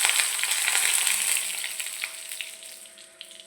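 Curry leaves crackle and sizzle in hot oil alongside dried red chillies, a dense, loud frying hiss that tapers gradually, heard alone without talk.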